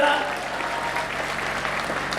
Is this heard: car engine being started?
no